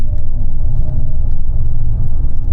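A loud, steady low hum with a faint tonal whine drones continuously from a nearby BMW i7 electric car's synthetic drive sound, no voices present.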